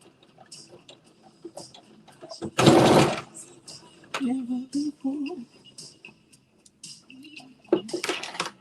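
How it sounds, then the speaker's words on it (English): A sewing machine back stitching on a Simplicity S9463 garment seam gives a brief loud whirring burst, then a short second run near the end, with someone talking between. "Back stitch."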